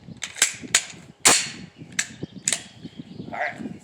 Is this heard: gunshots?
yes